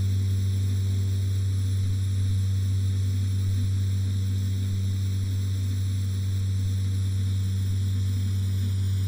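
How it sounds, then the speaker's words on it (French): Twin turboprop engines of a Beechcraft B200 King Air in the X-Plane 10 flight simulator, a constant loud drone with a strong low hum and layered high tones, unchanging from start to finish. "Calmer un peu les moteurs parce qu'on est parti un peu fort là."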